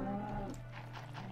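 A Minecraft cow gives a single short, low moo up close on a cow farm, brief and fairly quiet with no voice over it.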